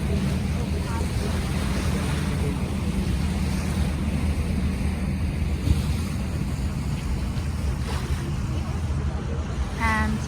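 Boat cruising on Lake Geneva (Lac Léman) toward Geneva, a constant low engine rumble with water wash and wind buffeting the microphone, steady throughout with faint distant sounds over the top.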